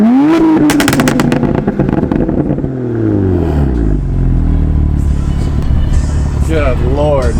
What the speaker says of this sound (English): Just got that Active Auto Works mid pipe. Oh, I need to rev it.